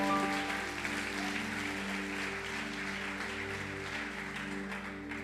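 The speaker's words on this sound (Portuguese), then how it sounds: "Você pode aplaudir o Senhor bem forte?" Church congregation applauding the Lord during a Portuguese-language sermon, a steady wash of clapping over sustained organ or keyboard tones, moderately distant and fairly even throughout.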